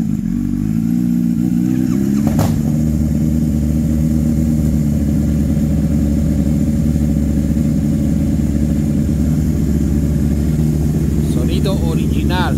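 A motorcycle engine runs steadily close by, idling with a rough low throb and small rises in revs, and a brief sharp knock cuts in near the start.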